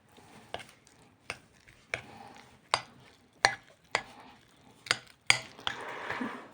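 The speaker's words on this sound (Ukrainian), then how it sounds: "Зараз ми сюди у цю суміш додамо сир, все ретельно перемішаємо." Cheese stirred into a cooking mixture in a pan, about nine distinct scraping knocks of a utensil against the pan at a steady, roughly even pace, close and fairly quiet, with a brief sizzle near the end.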